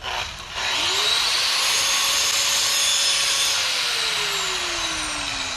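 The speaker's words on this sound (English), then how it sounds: "What is the symptom when you approximate that metal to the grinder? For example, I have a piece of iron like this." Iron held against a bench grinder in a propulsion systems lab, giving a loud, steady abrasive grinding roar with a high whine that drops slowly in pitch as the metal presses on the wheel.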